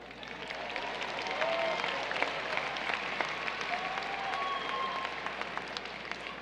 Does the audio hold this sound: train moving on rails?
no